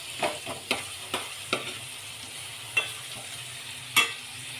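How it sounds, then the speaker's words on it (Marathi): Tomatoes sauté in a pan for a Maharashtrian prawn curry, with a soft sizzle under sharp, repeated scraping and clacking as a spoon stirs at an uneven rhythm. "टोमॅटो आपण नरम होईपर्यंत थोडासा परतून घ्यायचं आहे।"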